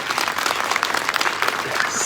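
Applause and acclamation from an audience at an official address in Côte d'Ivoire, a dense, steady burst of clapping with cheering mixed in throughout, fairly loud and close.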